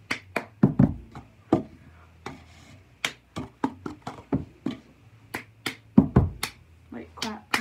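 Cup song rhythm performed by hand: sharp claps alternating with slaps and taps on a tabletop, repeating in a steady looping pattern of distinct close hits, with no talking.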